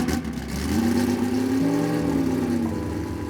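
A classic carbureted Porsche 911 engine catches and settles into a throaty idle, then revs briefly with a rising and falling tone, close and loud throughout.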